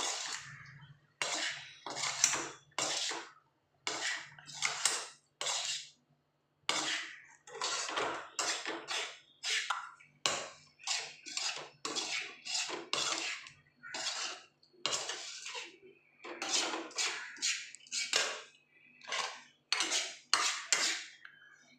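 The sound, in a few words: mixing food in a pan with a utensil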